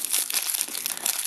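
Thick plastic foil wrapper of a toy figurine being opened by hand: close, continuous crinkling and crackling with dense rapid rustles, no talk.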